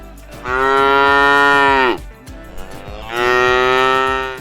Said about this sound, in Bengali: ওহো, এ তো এক মহারাগী কালো ষাঁড়